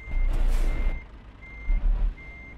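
Steady electronic reversing beeps from a lorry in Euro Truck Simulator 2, three evenly spaced tones over a low engine rumble that swells near the start and again later.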